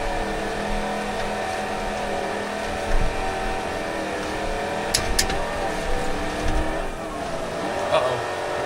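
A GT3 race car engine drones in BeamNG, rising and falling with revs and brief tire noise, heard beneath ongoing talk that sits over the engine throughout.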